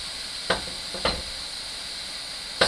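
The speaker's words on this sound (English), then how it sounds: "Stir it around, allow the meat to brown." Roughly a pound of 80/20 ground beef browns in a hot pan with a steady, even sizzle, while three brief stirring scrapes break through at intervals.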